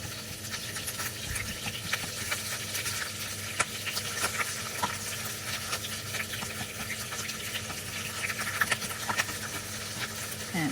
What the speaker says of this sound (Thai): ผัดหอมๆนิดนึง